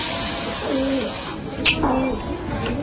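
Soft, throaty cooing from an elderly desi pigeon, a few rolling low calls close by with a brief sharp rustle or flap midway, no talking.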